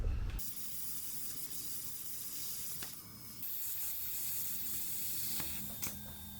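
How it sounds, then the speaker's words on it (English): A Yeswelder Cut-55DS budget plasma cutter slices 16 gauge stainless steel, a steady hissing, spraying rush with a sharp start and brief crackles, fairly faint and continuous, with no talking. "here is the 16 gauge cut, and you know, this is stainless, so it kind of slags different when you plasma stainless"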